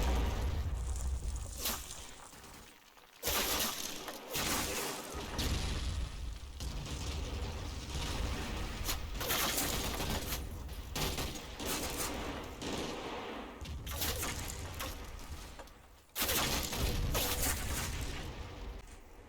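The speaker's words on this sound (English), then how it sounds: "The MG teams at Bacall are coming under suppressive fire themselves, and they're failing to gain fire superiority." Machine gun suppressive fire in the war game Combat Mission, set at Monte Cassino in a gorge battle: dense, sustained rattling bursts of automatic fire with heavy booming impacts, broken by a couple of brief lulls.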